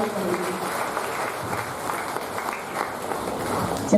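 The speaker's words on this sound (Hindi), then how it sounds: "जोरदार तालियों से" Audience applause at a centre's 53rd birthday gathering, a steady dense wash of clapping holding at even loudness throughout, with a brief louder burst at the very end.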